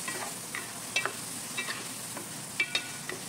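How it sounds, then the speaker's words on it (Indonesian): A spatula stirs capcay vegetables through a pan with a soft sizzle underneath, punctuated by several sharp scraping clicks of utensil on metal, nearby and moderately quiet, without speech. "kita aduk semuanya biar tercampur merata"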